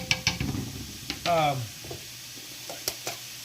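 Scallions frying in oil for vegan Japanese fried rice, a soft sizzle with a few utensil taps and a brief louder burst of crackling partway through.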